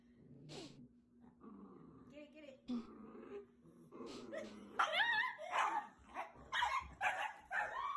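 A dog guarding a bone growls, yips and barks in short bursts, close and fairly loud, while people talk over and between the sounds.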